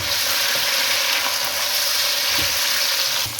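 Tomatoes and tamarind being stirred into browned onions frying in oil for chicken tikka biryani, a steady loud sizzle throughout with faint scraping of the spoon, no voices.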